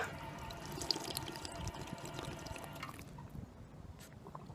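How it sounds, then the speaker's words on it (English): A drinking water fountain on a Portland rooftop runs with a close, steady splashing and bubbling stream for about three seconds, then cuts off, leaving faint outdoor ambience. "it's also a water fountain, which is good because I'm still very thirsty."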